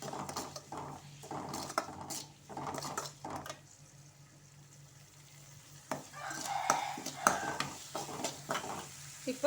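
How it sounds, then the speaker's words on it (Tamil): Curry leaves and salt sauté in a pan for a moong dal sprouts dish, a soft steady sizzle with bursts of scraping stirs, and a voice talking over the early part. "இப்போ கொஞ்சம் நம்ம உப்பு சேர்த்துக்கலாம். நல்லா வதக்கிக்கலாம்."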